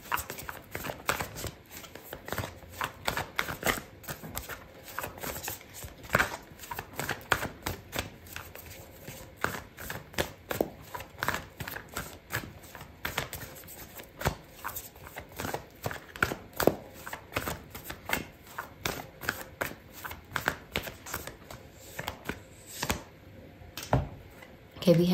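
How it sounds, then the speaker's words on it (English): Oracle cards shuffled by hand, giving a rapid, near-continuous stream of crisp papery clicks and flutters that runs for the whole stretch at fairly close range. "I'm going to pull out an oracle card for you"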